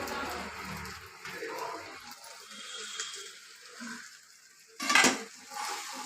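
Fried okra tipped into a pan and stirred in, giving close clattering of a utensil against the pan with soft sizzling, building to a sharp louder scrape and clatter near the end.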